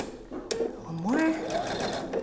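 A sewing machine stitches and backstitches the end of a single welt pocket, a short motor whir with pitch rising and falling, close and fairly loud, with a bit of voice around it.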